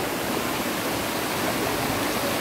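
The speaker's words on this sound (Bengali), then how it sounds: "এই যে দেখুন স্রোত বয়ে চলেছে" A mountain stream near Lava in Kalimpong rushes over slippery rocks in a dense, even roar of white-water noise that stays loud and unbroken throughout.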